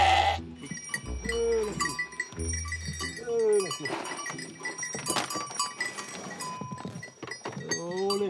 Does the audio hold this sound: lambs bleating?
yes